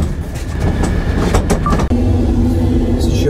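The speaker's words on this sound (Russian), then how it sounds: "Взял поезд, который называется «Ласточка»." Inside a Lastochka passenger train in Russia, heading to Yaroslavl: a loud, steady rumble of the carriage in motion fills the clip, with rhythmic clatter and a brief dip in the noise midway, and no voices.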